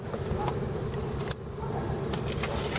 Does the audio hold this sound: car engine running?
yes